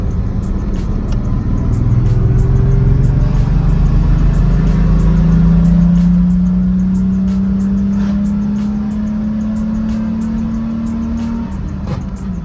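A Chevrolet S10 pickup fitted with a Black Widow Venom 300 exhaust accelerates hard up a hill, its loud engine note climbing steadily in pitch through the gears before easing off near the end, close and without talk.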